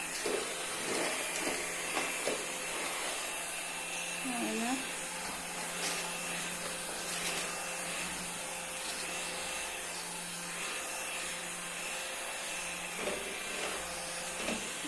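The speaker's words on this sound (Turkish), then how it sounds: "Gayet hafif süpürge" A steady, fairly quiet motor whir with airy hiss from an Electrolux Ergorapido cordless stick vacuum on its lowest setting runs throughout, with a few faint knocks.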